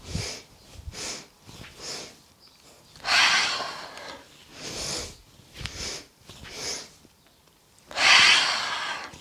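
Deep breaths during a vinyasa yoga flow, with several rhythmic nasal inhales and long, forceful exhales close to the microphone, two of them especially loud and drawn out.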